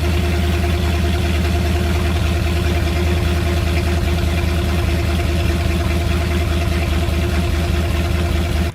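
A 1971 Dodge Dart idles with a 2.5-inch exhaust dumped after the differential, producing a loud, steady low rumble with a fine, even lope and some mechanical clatter, running continuously with no voices.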